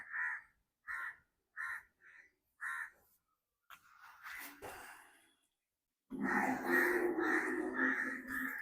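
Crows caw about five times in a quick, evenly spaced series near a village outdoor cooking spot, followed by rustling, breathy noise and a louder, busy stretch of background sound.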